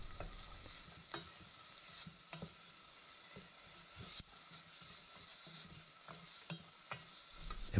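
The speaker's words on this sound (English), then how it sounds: "So we're going to start browning our pancetta cubes," Pancetta cubes and garlic brown in a pan, giving a continuous soft sizzle broken by intermittent scrapes and clicks of stirring, fairly quiet and close, with no voices.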